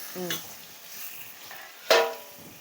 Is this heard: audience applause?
no